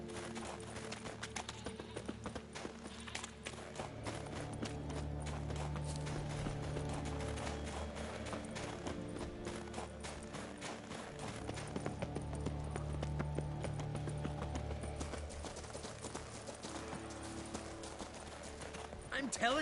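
Galloping horse hooves in The Witcher 3 drum continuously under a bed of game music and ambient clatter, a steady rhythmic clip-clop running throughout at moderate loudness.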